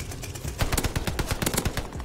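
An Owen submachine gun in the video game Call of Duty: Vanguard fires a rapid automatic burst, a dense string of sharp close cracks lasting about two seconds.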